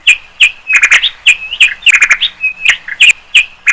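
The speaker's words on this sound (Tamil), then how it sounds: "பாசர் டொமஸ்டிகஸ் என்ற பெயரை தாங்கிய இந்த சிட்டுக்குருவிகளின் குரலை கேட்டால் மன அழுத்தம் குறைகின்றது" House sparrows chirp loudly and close, a rapid series of bright, clipped tweets in irregular clusters with brief gaps between them.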